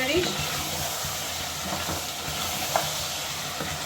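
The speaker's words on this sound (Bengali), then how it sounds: "আমি আরেকটু এক দু মিনিট এভাবে কষাবো ওই যে মশলা যেগুলো দিছি ওগুলো একটু তেলের সাথে কষাতে হবে" Beef and spices for a Khulna chui jhal curry fry in oil as they are stirred in a pan, making a steady sizzle with soft scraping strokes and no talking.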